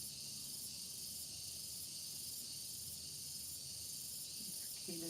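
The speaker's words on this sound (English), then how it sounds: "Cicadas are getting excited that we're coming back." Cicadas calling in a dense, continuous high-pitched buzzing drone with faint rhythmic pulses, steady and fairly quiet throughout, with a brief low tone near the end.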